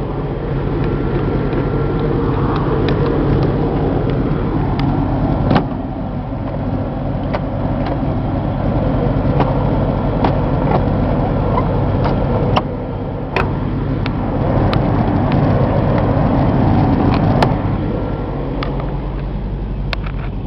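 On a 2002 Chevy C8500 military truck with a Caterpillar 3126 diesel, the air conditioning compressor runs with its big fan in a loud, steady whirring drone. Mechanical ticks and clicks repeat through it.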